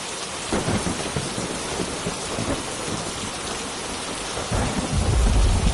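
Heavy rain pours at night in a steady, dense wash, with deep thunder rumbles swelling near the end, loud and close with no voices.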